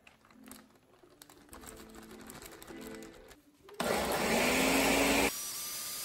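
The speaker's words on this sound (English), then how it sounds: "and we're going to puree them in the blender." A blender purees thawed pears for pear makgeolli, starting with a loud, steady motor whine that drops to a lower running hum near the end, following quieter kitchen clatter.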